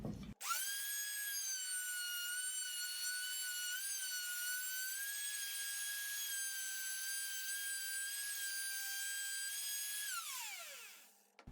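A router table fitted with a 1/2 inch round-over bit cuts a wooden stair part, a steady high motor whine held for about ten seconds before it spins down, loud and alone.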